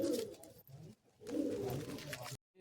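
Pigeons coo in a loft, soft, low, rolling calls that come in two close bursts with a short gap between them.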